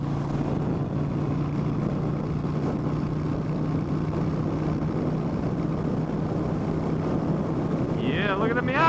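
A Harley-Davidson Sportster 1200 Custom cruises at highway speed of about 70 to 75 mph. A loud, steady engine drone runs throughout, mixed with constant wind rush.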